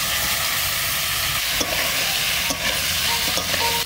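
Taro pieces frying and being stirred in leftover oil in a wok, a dense close sizzle with rhythmic spatula scrapes and knocks, no voices.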